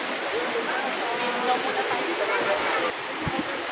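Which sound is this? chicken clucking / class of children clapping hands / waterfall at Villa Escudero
waterfall at Villa Escudero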